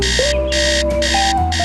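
An alarm clock rings loudly in a steady pulsing pattern of bright electronic bursts separated by short gaps, heard on its own without speech.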